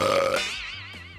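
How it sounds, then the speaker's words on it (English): A cartoon character lets out a single loud, drawn-out burp that starts rough and trails off over about a second, alone with no talking. "Sorry, that was a Determined Burp."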